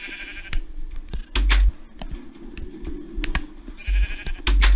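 Sheep bleat in a Minecraft survival world. Two short, fairly loud bleats sit at the start and end, and sharp clicks and key taps scatter between them.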